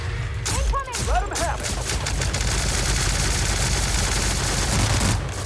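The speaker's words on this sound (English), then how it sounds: "This gun is so good." Rapid gunfire from a weapon in The Outer Worlds, a dense run of shots filling the whole stretch with a constant loud roar, with brief game effects near the start.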